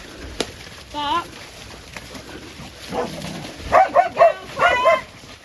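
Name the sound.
farm dog barking while herding cattle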